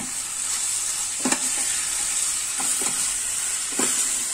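Ridge gourd curry stirred in a pan over the flame, a steady sizzling hiss with a few soft scraping strokes of the spoon at intervals, close and moderately loud, with no talking.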